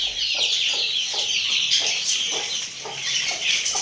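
Repeated hen clucking with soft, short calls in a steady pattern, accompanied by high chirping from chicks throughout, fairly close and continuous.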